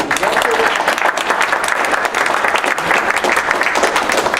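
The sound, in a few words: audience applause for presenters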